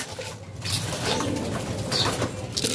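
Racing pigeons coo and murmur softly while being fed grain before club training, a steady low cooing chorus close by with faint rustling, and no voices over it.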